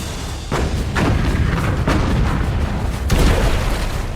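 Naval gunfire from British warships in battle with the Bismarck: several heavy booms and thudding blasts overlapping in a loud, continuous barrage, with fresh detonations near the start, around one and two seconds, and again past three seconds.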